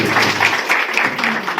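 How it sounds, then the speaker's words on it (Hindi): Loud, sustained applause from a church congregation at a Hindi-language prayer service on the gift of speaking in tongues, a dense steady clapping wash filling the short moment without talk. "जोरदार ताली।"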